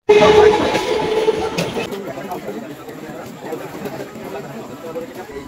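A train at a railway station gives a loud rumble and clatter that is strongest at the start and eases off, with people talking nearby.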